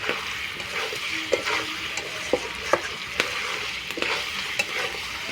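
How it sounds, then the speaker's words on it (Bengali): Chicken pieces being fried with coarsely ground spices, stirred in a pan: a constant close sizzle broken by irregular knocks and scrapes of the stirring spoon, no speech. "এবার মশলাটা দিয়ে ভালো করে মাংসটা কষিয়ে নেব।"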